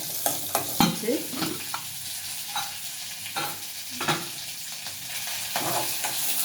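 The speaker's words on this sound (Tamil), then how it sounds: "நல்லா நெய்யிலேயே நல்லா வந்து வதங்கட்டும் முந்திரி போட்டுக்கலாம்" Cashews fry in ghee for venpongal, a close, steady sizzle broken by scraping stirs and clinks of a spoon against the pan, with no voices.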